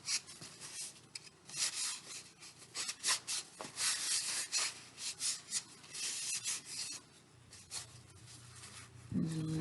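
A napkin wiping a transfer board, with steady back-and-forth rubbing and scratching strokes throughout, close and fairly quiet, ending with a brief low thump.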